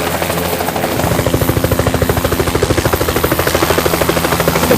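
A helicopter flies low over a downtown area, its rotor chop starting up as loud, rapid rhythmic thumps that hold steady and close for several seconds.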